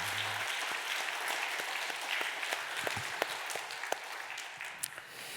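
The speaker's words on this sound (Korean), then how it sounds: "우리 힘차게 우리 한번 박수하도록 하겠습니다" Congregation applauding during a Sunday church service, a steady wash of many hands clapping together with a few louder individual claps standing out.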